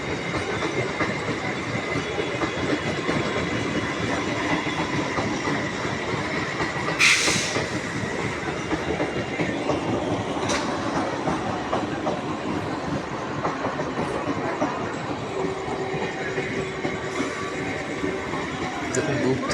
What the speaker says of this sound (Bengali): দূর থেকে আরেকটি ট্রেন দেখুন কিরকম ভাবে ছুটে আসছে